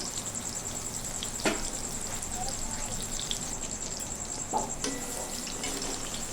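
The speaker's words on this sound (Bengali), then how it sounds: "বাকি সোয়াবিনগুলো আমি অল্প অল্প করে এইভাবে দিয়ে আমি লাল লাল করে ভেজে নেব" Soybean chunks frying in hot oil give a steady, close hiss with scattered pops, broken by a few sharper clatters of stirring or pieces added to the pan.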